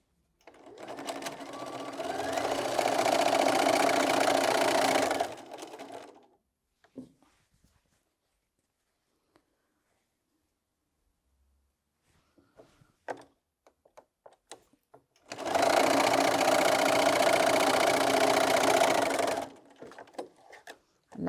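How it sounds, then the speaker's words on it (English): A sewing machine stitches two 5-inch quilt fabric squares, a background piece and a feature fabric, in two sustained whirring runs of several seconds each, separated by a quiet gap with small handling clicks. "I'm just going to go to the sewing machine now and put that together"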